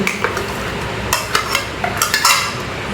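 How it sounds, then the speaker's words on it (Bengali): Semolina and flour soaked in milk being poured into mango purée and stirred for mango malpua batter, with wet clinks and scrapes of a spoon against a bowl in a short, busy run. "ঢেলে ভালো করে মিক্স করে নেব"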